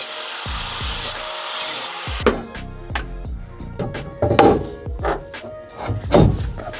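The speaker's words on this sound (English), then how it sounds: "I just need to cut out a small piece of this metal here and here" Car body metal on a Honda Prelude being cut out, with a loud rushing tool whine for a couple of seconds followed by uneven grinding, scraping and rasping bursts close by.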